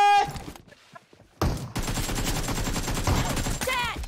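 Shotgun blasts and a burst of gunfire in PUBG Mobile ring out loud and dense after a short lull, with a player's voice heard faintly at the start.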